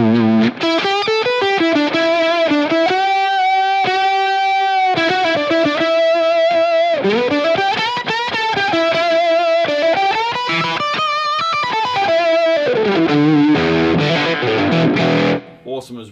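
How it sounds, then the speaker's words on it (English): Electric guitar through an octave fuzz on an Axe-Fx II with the wah off, a thick, buzzing lead with sliding, sustained bends and held notes, loud and continuous until a brief stop near the end. "So now let me put the octave fuzz on without the wah."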